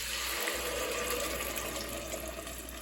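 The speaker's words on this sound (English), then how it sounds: "I'm going to pour that right in." Canned tomatoes poured into a pan of hot garlic oil for a simple pasta sauce, giving a steady, close rushing sizzle that holds level for the whole moment with no talk.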